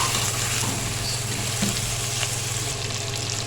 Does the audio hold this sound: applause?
no